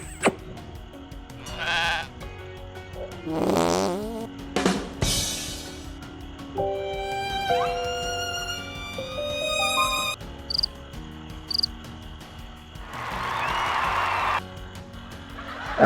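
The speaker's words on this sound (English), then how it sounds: "If you click on that emoji, it will produce the sound." Facebook Messenger sound emojis play one after another: short playful sound effects, including bleating animal noises, chirping, cartoonish tonal jingles and a burst of crowd-like noise, all moderately loud with no talking.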